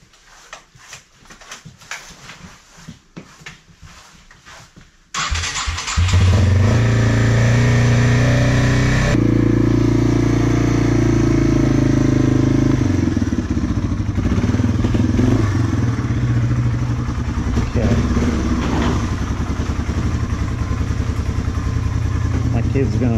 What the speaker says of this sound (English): I've seen some people try driving in pretty deep snow with a TW